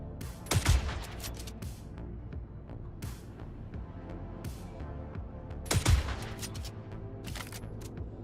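Gunshots in the Star Citizen video game crack out in two sharp bursts a few seconds apart, with scattered fainter shots and a low background hum between them, fairly quiet overall.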